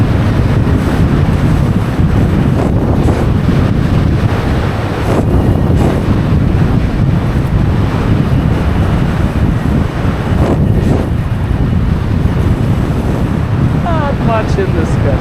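Windfoiling on open water in a gust: heavy, rushing wind buffets the microphone continuously, with water splashing and hissing beneath the board throughout.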